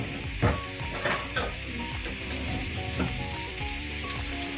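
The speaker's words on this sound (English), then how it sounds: "we're going to fry up these components like so" Onions sizzle and fry in a pan for a Mediterranean olive-oil spaghetti dish, a steady close crackle broken by a few louder scrapes and stirring clatters near the start.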